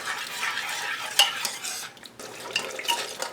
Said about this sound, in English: Smash all the garlic pieces and onions with the spoon.